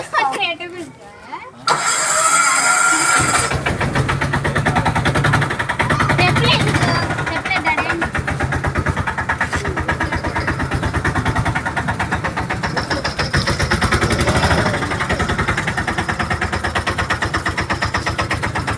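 A motorbike engine starts and then runs at a steady idle close by for the rest of the stretch, with people talking over it.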